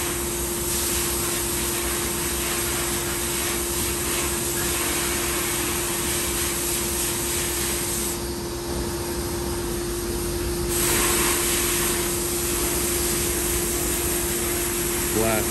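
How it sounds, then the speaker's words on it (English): Abrasive blasting roars against the barrel end of a 1940s Sears air rifle being restored, a loud, continuous hiss of blasting air with a steady compressor hum, briefly easing partway through before resuming. "Blast this off quick on the end, make sure we get it decent."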